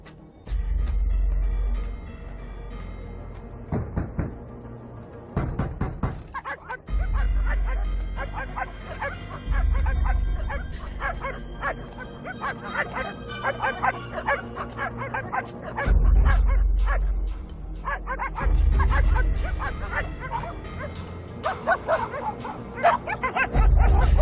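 Several dogs bark, yip and whimper in bursts throughout an action film scene, near and loud, layered with music and occasional voices.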